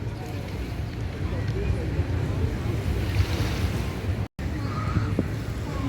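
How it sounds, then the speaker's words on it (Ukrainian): Steady rush of sea surf washing onto a beach in Sarandë, Albania, in the evening, with wind buffeting the microphone throughout and a brief dropout near the end. "Я спеціально інколи в відео вставляю просто море, щоб ви теж послухали такий собі АСМР"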